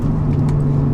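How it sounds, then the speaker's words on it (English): Inside a manual car, the engine drones with a steady low hum as the clutch is released and the revs settle, a brief close continuous rumble without speech. "The whole car lurches forward as the revs match up when I lift off the clutch."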